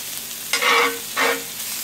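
Chicken is laid onto a grill pan with olive oil, giving two bursts of bright sizzling, close and loud, with a quieter hiss of frying between them.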